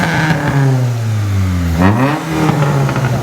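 A Mitsubishi Cedia revs hard, its engine note falling away then sweeping back up in a loud, close, throaty rise with no talk over it.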